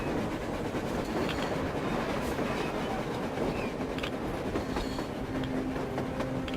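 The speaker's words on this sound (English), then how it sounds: "A train! A damn train on the surface!" In the video game Metro Exodus, a train runs across the surface with a steady, continuous rumble and rhythmic wheel clatter, loud and sustained, with faint squealing tones near the end and no talking.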